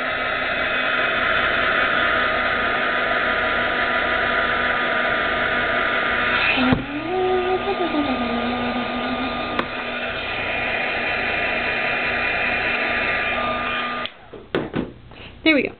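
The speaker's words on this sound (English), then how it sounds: "I'm just going to quickly throw a heat gun at it" A heat gun drying freshly applied Liquid Pearls paint gives a steady, loud broadband blowing roar for about fourteen seconds, with a brief pitch wobble midway, then cuts off with a few clicks at the end.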